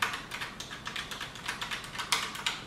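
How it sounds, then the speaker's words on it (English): Rapid, crisp clicking of fingers typing on a clicky Bluetooth keyboard with a typewriter-like feel, close and steady with uneven bursts and no talking. "I've been wanting one that's got that good click to it, kind of like a typewriter feel."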